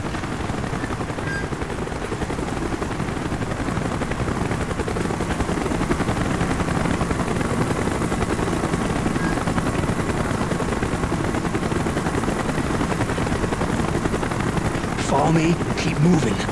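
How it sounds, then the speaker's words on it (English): A helicopter roars steadily throughout a Call of Duty: Black Ops mission, its loud, dense drone blending with gunfire and military chatter, and voices shouting over the din. "Chopper's inbound!"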